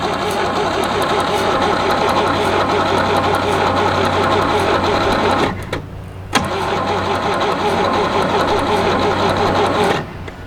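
A stuck big block 305 V6 in an abandoned 1967 GMC C20 being cranked over, a loud, rapid, rhythmic starter churn in two long bursts separated by a brief pause.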